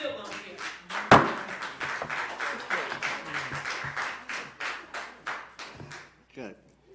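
Applause at a city council meeting: a burst of claps from a small audience, sparse and uneven, continuing in scattered taps and fading out, with voices talking underneath.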